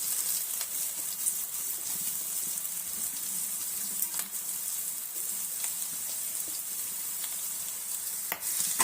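A spoon scrapes and stirs a potato mixture in a hot pan, with soft sizzling and irregular clinks of utensil on metal over a continuous frying hiss.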